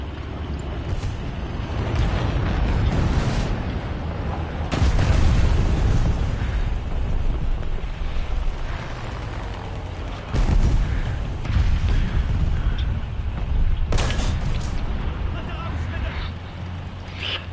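Tank cannon shots in the War Thunder game boom out as a few heavy, broadband blasts spaced several seconds apart, each followed by a rumbling tail, while people talk throughout.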